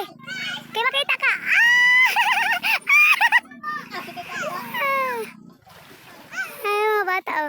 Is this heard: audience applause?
no